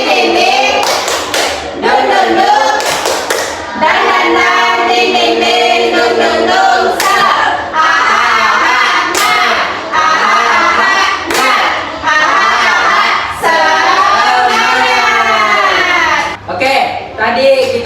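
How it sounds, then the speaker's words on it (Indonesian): A school class performs tepuk semangat, a spirit-clapping routine: sharp group hand claps land in a rhythmic pattern, interleaved with children's voices chanting along throughout. "kalau begitu kita tepuk semangat dulu"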